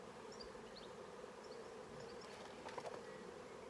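Bees hum in a steady low drone at a beehive during an inspection, faint and continuous, with a few brief higher buzzes passing near.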